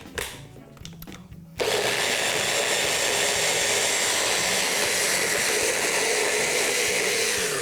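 Blender whirring at full speed through a spinach pesto with confit garlic, a loud steady roar that kicks in abruptly after a few quieter clatters and runs on without pause.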